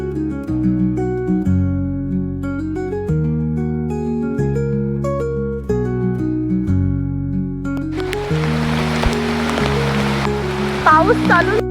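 Water from a small, cold waterfall stream at the Mainapi and Savari falls, with a rushing wash swelling in the final few seconds after a long stretch dominated by music.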